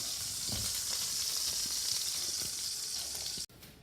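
Beef tenderloin sears in a hot pan with a loud, steady, close sizzle that cuts off abruptly near the end, no voices.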